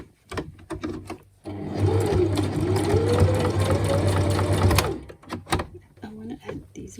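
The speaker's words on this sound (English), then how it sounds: "So I'll just stitch that on top." A sewing machine stitches through a paper junk journal closure in one steady whirring run of about three seconds, close and loud, framed by handling clicks and rustles, with a voice speaking before and after.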